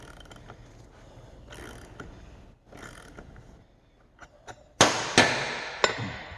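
Box end wrench working a fitting during a power steering system service, heard as a few soft clicks and rattles followed by several sharp metallic clanks and ratcheting bursts near the end, close by with no talking.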